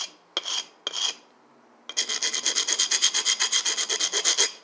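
Sanding the thick back of a steel knife blade: two separate rasping strokes, then a steady, fast run of about twenty rhythmic back-and-forth scrapes, close and alone.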